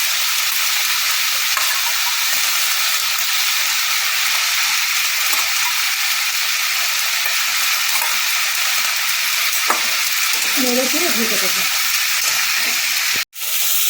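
Pumpkin and potato pieces sizzle steadily in a covered pan, a constant loud frying hiss with a few faint clinks, cut off by a sharp click near the end.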